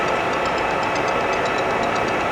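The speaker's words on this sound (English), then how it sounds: "he engaged the half nut and he's threading" A 17-inch Clausing-Colchester gap bed engine lathe runs steadily while threading, giving a constant loud mechanical hum with a faint regular ticking rhythm and no voices.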